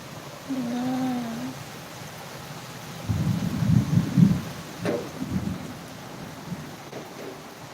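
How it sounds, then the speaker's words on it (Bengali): Torrential rain pours steadily around a house as water pools in the yard, a soft continuous hiss with a few low rumbles and a brief voice-like whistle near the start. "বাবারে কত বৃষ্টি দেখছো"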